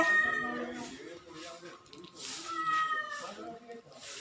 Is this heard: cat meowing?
yes